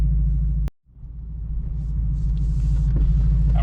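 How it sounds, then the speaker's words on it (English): A car engine rumbles steadily while driving, heavy low-frequency drone broken by a brief dropout before resuming, with faint wind and road noise over it, close and loud, no talking. "just want y'all to listen to the car"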